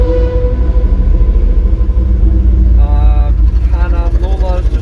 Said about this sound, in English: I've got Group C Jaguars revving behind me